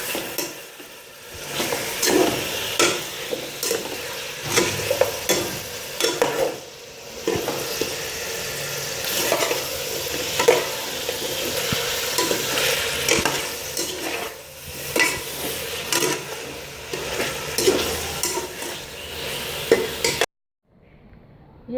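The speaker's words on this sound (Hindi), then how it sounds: "अब इसमें हमने गोश्त डाल दिया, इसको हम हल्का ब्राउन करेंगे।" Mutton chunks browning in a pot are stirred and scraped continuously for about twenty seconds, giving a busy texture of sizzling, wet shuffling and spoon scrapes against the pot that rise and fall with each stroke.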